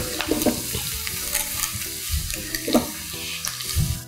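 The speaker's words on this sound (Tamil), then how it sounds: "தென் அதுலேயே வந்து நல்லா நீளமாக வெட்டின இஞ்சி, அடுத்ததாக பூண்டு, அதுவும் நீளமாக வெட்டினது." Julienned ginger and garlic fry in hot oil after mustard seeds for a fried-fish ground-masala curry, a continuous close sizzle broken by the scrape and clatter of stirring.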